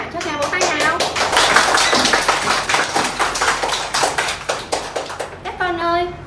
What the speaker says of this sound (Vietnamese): Các bạn cho chàng vỗ tay nào.